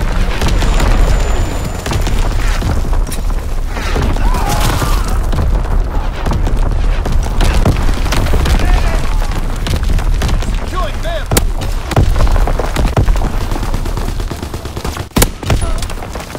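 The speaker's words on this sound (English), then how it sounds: "Firing primary battery." Heavy artillery battery firing in the World War II shooter Call of Duty: WWII, a dense continuous barrage of booms and gunfire with sharp louder blasts near the end, under game voice callouts.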